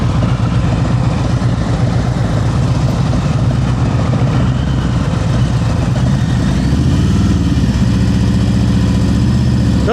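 Motorcycle engine at low idle and slow speed during advanced slow-speed riding practice in Florida, a steady close rumble with slight revving shifts throughout, no talking.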